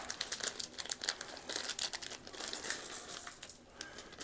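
A plastic bag of wooden board game pieces being torn and crumpled open by hand, a steady run of close crinkling and ripping rustles with no talk.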